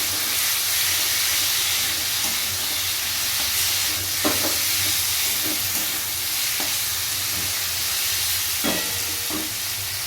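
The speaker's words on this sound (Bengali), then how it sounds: "ফুলকপি আলু ভাজাটা দিয়েও কিন্তু একটু কষে নেব।" Fried potatoes and cauliflower are stir-fried in a spice paste in a pan, giving a steady sizzling hiss throughout with occasional scrapes and knocks of a spatula.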